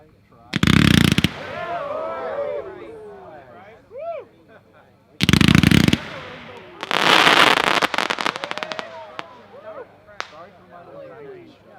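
Fireworks fan cakes of 19-shot slices fire in loud bursts: sharp cracks with whistling, crackling tails, then a rapid volley of shots, with brief voices between.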